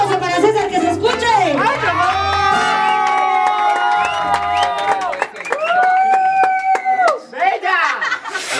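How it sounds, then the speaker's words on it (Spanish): Birthday party crowd cheering, whooping and clapping for César, with children shouting and chatter over strong sustained mariachi trumpet and violin tones throughout. "¡Y el aplauso para César, que se escuche!"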